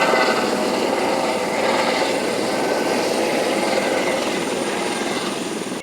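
A helicopter flies overhead before landing, its steady rotor and engine roar filling the scene at fairly close range, then fading out at the very end.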